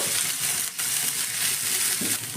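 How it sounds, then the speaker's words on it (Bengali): Onion and capsicum stirred and fried in a pan for a crispy snack, giving a steady close hiss of frying with scraping stirs throughout and a brief dip partway. "এবার এইগুলোকে হালকা একটু নাড়াচাড়া করে ভেজে নেব।"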